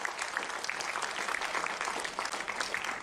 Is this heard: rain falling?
no